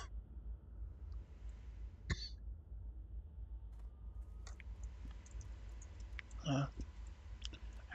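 A single short cough from a person playing World of Warcraft WOTLK Classic, a brief sharp burst near the end over faint room noise and scattered keyboard and mouse clicks.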